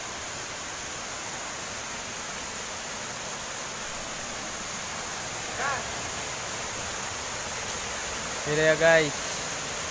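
A mountain waterfall at Batu Sela in the Cianjur highlands of Indonesia gives a steady, moderate hiss of falling water, with someone speaking briefly twice over it.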